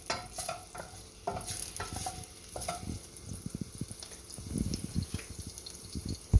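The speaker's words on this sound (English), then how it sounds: "Just going to let that cook for a little bit. Until the onion turns clear." Onion cooks in a pan until it turns clear, giving a steady soft sizzle with scraping stirs and occasional clinks, close and fairly quiet with no talking.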